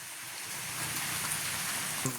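Steady rain falls on a rural village in the Vanni region, a continuous close hiss of drops with a few heavier patters, and no voices.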